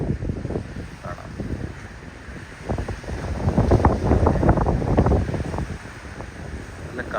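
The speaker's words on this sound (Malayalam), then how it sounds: "നല്ല കാറ്റുണ്ട്. കാറ്റിൻ്റെ ശബ്ദം ഇതിനകത്ത് വരുന്നുണ്ടെന്ന് അറിയില്ല" Strong coastal wind batters the microphone on a walk through the seaside town of St Ives in Cornwall, a loud, close, gusting rumble that swells and eases in uneven bursts throughout.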